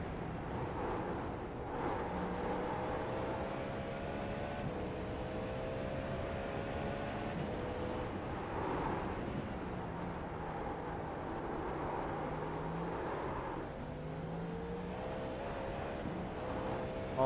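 Tires rolling and scrubbing on track in the iRacing sim racing game, a steady drone of engine and tire noise holding at even loudness throughout with faint wavering tonal whines, no talking.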